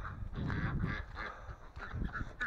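A small female Muscovy duck that is failing to regrow her feathers calls during morning farm chores, giving a run of repeated, fairly loud honking calls close by with no one talking.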